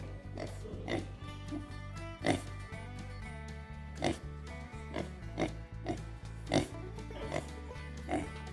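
Pigs on a farm grunt and oink in a series of short bursts, recurring roughly every second, over a steady background of music.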